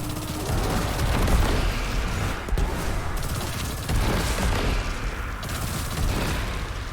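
Rapid bursts of explosions from enemies blown up by knife kills in Destiny 2, a Hunter's enhanced incandescent perk setting them alight; dense, loud overlapping booms and crackles rolling through the whole stretch with no talk.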